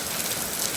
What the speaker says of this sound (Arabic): أمطار ما شاء الله